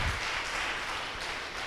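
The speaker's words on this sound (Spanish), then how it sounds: "Démele un aplauso al Rey de Reyes y Señor de Señores" A church congregation gives a brief burst of applause for Jesus during a Spanish-language service, a faint, steady wash of clapping heard from a distance.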